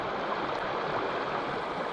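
Khancoban Creek, a clear New South Wales trout stream, rushes in a constant broadband wash of flowing water, steady and close with no voices.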